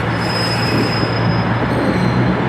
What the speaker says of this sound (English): Another set of 156s departing platform 10 or 11